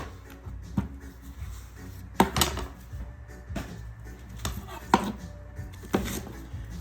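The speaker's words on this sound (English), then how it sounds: "I'm just cutting them in big chunks because I'm just gonna put it into my blender." A knife chops vegetables into big chunks on a cutting board in irregular bursts of sharp knocks, close by, with quieter scraping and handling between strikes.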